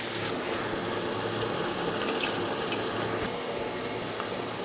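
About half a cup of water poured into a pan of dry spices such as cumin and coriander powder while cooking duck curry, a continuous close gushing and sizzling wash of sound with no talk.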